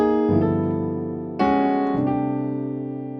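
Piano plays a few sustained chords, moving from a 2 chord straight to the 5 chord; a soft opening chord is followed by a louder, fuller strike that rings and decays, played alone.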